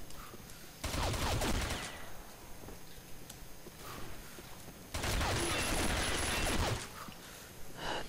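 P90 submachine gun fire in the Combat Arms shooter rattles out in two sustained bursts of rapid shots, each lasting a second or two, separated by quieter game ambience.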